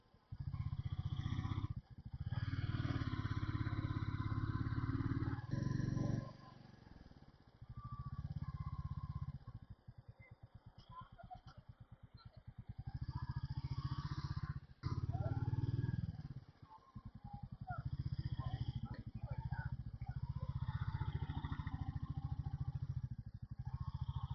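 A Royal Enfield Classic 350 motorcycle being ridden uphill toward Mount Abu, its engine thumping low and steady with long stretches of heavy wind buffeting and a few quieter gaps, and no speech.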